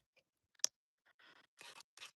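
Scissors cut through scrapbook paper in a few short, close snips and crisp slicing strokes, separated by quiet pauses.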